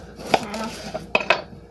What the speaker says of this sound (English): I'm going to go ahead and cut up our onion